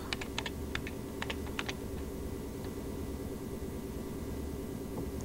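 Someone types a short command on a computer keyboard, producing a small cluster of light, quick key clicks near the start over a steady background hum, and then a few scattered taps. No one speaks.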